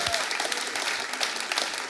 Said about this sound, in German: kleinen Applaus wirklich